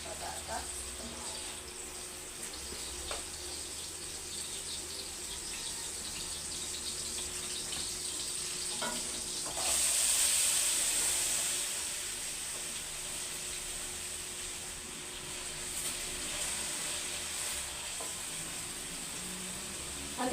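Diced potatoes frying with ground meat in a pan, a soft steady sizzle and hiss that swells briefly midway, fairly quiet with faint kitchen clatter.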